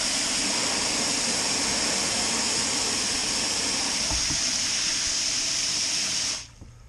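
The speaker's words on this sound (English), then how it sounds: "I put a little bit of regular water into it, give it a little more water here." Water runs into a container at a winter squash prep station, a steady loud hissing rush that stops abruptly near the end.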